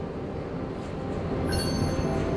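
A train in the video game Nobody Wants to Die rolls along with a steady low rumble, and a thin high metallic squeal rises near the end.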